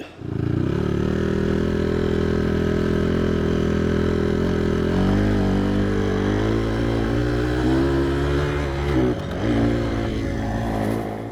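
A 2007 Honda CRF150R dirt bike engine runs close by with a steady, throaty idle. It rises and wavers into higher revs partway through, then settles, with no talking.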